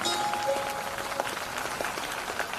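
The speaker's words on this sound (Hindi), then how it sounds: "कहाँ है तालियां?" Audience applause at a Bhagwat Katha religious discourse gathering: a steady wash of many hands clapping, moderately loud and dense throughout, with no voices over it.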